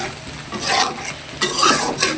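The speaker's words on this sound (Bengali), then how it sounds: "এটা এখন আমি এইভাবে কষা নেব।" Koi fish dopiaza cooking in a pan, with spoon strokes scraping through the sizzling mixture in a few distinct bursts over a constant frying hiss.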